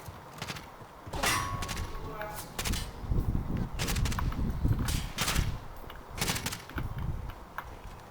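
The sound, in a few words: gunfire in the video game Call of Duty Warzone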